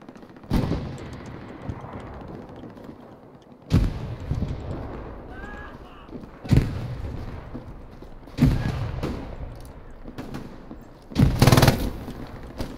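An MG42 machine gun in Hell Let Loose fires five separate loud bursts, each followed by a quieter echoing tail and spaced a few seconds apart.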